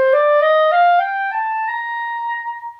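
A clarinet plays a rising scale with each note separated, about six distinct steps climbing over a few seconds. The tone is clear and solo with no voices, ending on a held top note that fades out.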